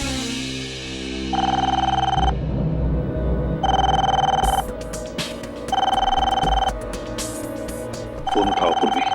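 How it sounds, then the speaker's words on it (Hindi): Telephone in the CID bureau in the Hindi TV crime drama CID rings in repeated bursts of bright electronic trilling separated by short gaps, loud and close, over a low background rumble. "फोन उठाओ"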